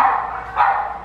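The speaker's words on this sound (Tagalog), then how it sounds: "Sumigaw yung mga aso." Dogs bark loudly and close by, a sustained harsh burst of barking with a second swell midway through the one-second stretch.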